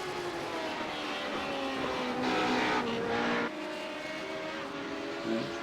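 A race car's engine in a racing video game drops to fourth gear for Stowe corner, its harmonic whine stepping in pitch around the shift and revving steadily, close and loud with no talk.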